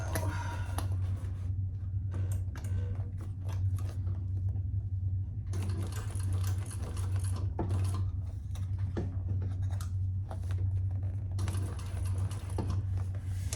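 A sewing machine stitches a crossbody clutch with a D-ring, its steady mechanical hum running close and loud through the whole stretch, with short pauses and brief ticks as the work shifts.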